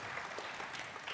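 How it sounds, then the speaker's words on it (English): Brief burst of audience applause at a live business panel event, dense, even clapping throughout. "Round of applause,"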